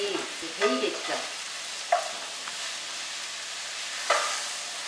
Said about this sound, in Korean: 우리가 밑간에 둔 고기를 넣고 다시 볶겠습니다.